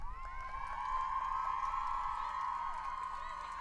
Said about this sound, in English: There's Dave Nolan and a big cheer from the Georgetown crowd